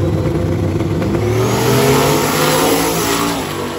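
Pair of turbo V8 index drag race cars accelerating hard down the strip, a loud sustained engine roar with rising pitch that fills the whole moment and fades slightly at the end.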